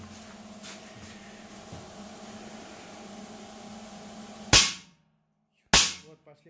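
The Spark-10 electric pulse discharge device fires on metamorphosed sandstone from the Southern Urals: two sharp, loud cracks about a second apart follow a steady low equipment hum, each snapping off into near silence.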